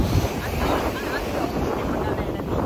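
Ocean surf at João Fernandes beach in Búzios, a steady loud wash of waves mixed with heavy wind buffeting the microphone, continuous and close.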